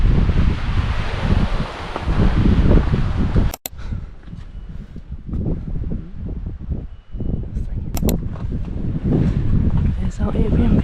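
Breezy morning wind in Cinque Terre, a steady gusty rush buffeting the microphone, with a few brief dropouts and people talking over it.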